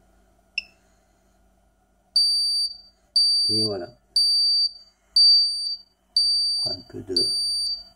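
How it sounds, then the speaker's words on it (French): An electronic timer with a relay output gives six evenly spaced sharp beeps about once a second over its final seconds, with someone speaking between and over the later beeps. "J'ai fait un bip à chaque seconde les 5 dernières secondes."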